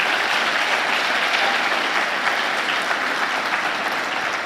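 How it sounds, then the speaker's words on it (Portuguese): A church congregation applauds together in a steady, dense wash of clapping that fills the room at full strength throughout, with no voices standing out. "E eu quero que você aplaude o Senhor por isso."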